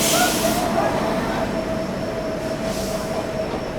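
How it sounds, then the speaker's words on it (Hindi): Goa Express pulling into Gwalior Junction, a steady close rumble of railcars rolling past with a faint high wheel squeal running throughout. "बाकी दोस्तों यहाँ पर अराइवल होता हुआ गोवा एक्सप्रेस का।"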